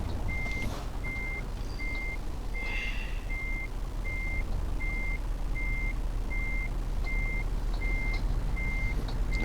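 A truck in Euro Truck Simulator 2 backs up with its reversing alarm beeping in a steady, evenly spaced rhythm over a constant engine rumble, with a short hiss of air brakes partway through.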